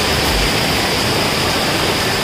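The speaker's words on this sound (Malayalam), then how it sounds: "ഇതിനെ മിനി ആതിരപ്പള്ളി വെള്ളച്ചാട്ടം എന്ന് പറയുന്നത്" The three-tiered Blappila waterfall in Konni, a loud, steady broadband rush of falling water heard close up and continuously, with no talk.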